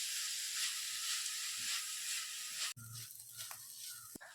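Sliced onions sautéing with ginger garlic paste and green chili for a cauliflower biryani, a steady close sizzle and hiss that drops suddenly partway, then lighter crackling with a few faint clinks.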